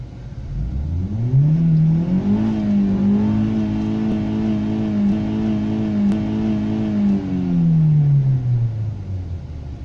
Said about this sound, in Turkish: Benzinde kesiciye giriyormuş.